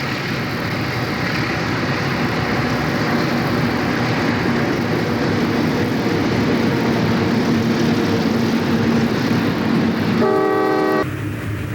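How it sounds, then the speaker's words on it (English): A northbound Delaware & Hudson freight train rumbles steadily past at Cooperstown Junction, New York, loud and close, with a short horn blast near the end. "Here's a northbound D&H freight at Cooperstown Junction,"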